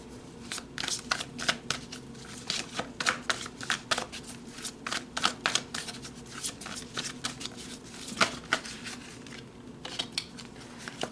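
Tarot cards shuffled by hand, giving a run of crisp riffling and sliding card sounds in irregular bursts, close and clear throughout.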